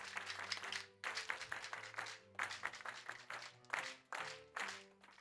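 A church congregation claps together in praise, dense rhythmic applause in several bursts with short pauses between, under a sustained low musical hum.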